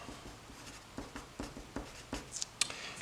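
A pen or marker writing out an algebra equation makes soft, scratchy strokes in short separate bursts, close by and quiet, with a few sharper taps near the end and no talking.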